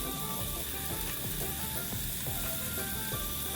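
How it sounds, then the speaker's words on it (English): Crushed garlic, scotch bonnet pepper and escallion sizzle steadily in hot cooking oil for a Jamaican okra stew, a continuous close crackling fry with no talking. "I'm now going in with some crushed garlic, some scotch bonnet pepper, and Escallion of course."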